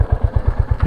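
A Royal Enfield Hunter 350 motorcycle engine runs just after starting, giving a close, steady rapid thumping beat of single-cylinder pulses.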